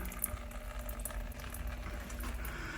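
Water leaking through a building, heard as a steady, close rush of running, trickling water that holds at an even level throughout with no talk over it.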